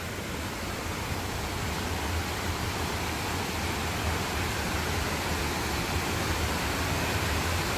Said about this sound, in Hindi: पानी का आवाज़ सुनिए।